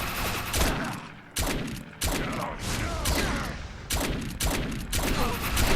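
Rapid gunfire from an overcharged weapon in the video game Defiance, loud sustained bursts broken by short gaps and resuming several times, close and continuous.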